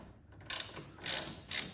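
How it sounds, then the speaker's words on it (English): A ratchet works loose a bolt on Harley-Davidson foot pegs in three short, loud bursts of rapid clicking, each about a quarter second long, with quiet gaps between them and no talking. "Let me just unscrew this."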